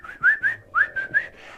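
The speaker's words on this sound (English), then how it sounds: "I would whistle" A person whistles four short rising notes in two pairs, close and fairly loud, with a brief pause between the pairs and no talking.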